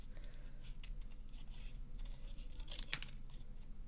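Scissors snipping through paper in a series of quick, crisp cuts, close and fairly quiet, with faint rustling between snips.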